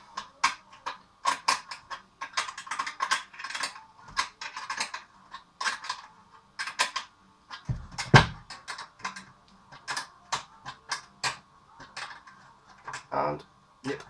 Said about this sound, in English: 10mm spanner. Nip.